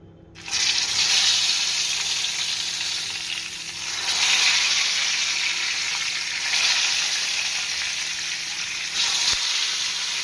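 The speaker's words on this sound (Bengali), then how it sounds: "তেল গরম হয়ে গেছে, এবার বেগুনগুলো ভেজে নেব" Eggplant slices fry in hot oil with a loud, steady hiss that begins abruptly after a brief quiet start and swells in a few waves as pieces are added or moved.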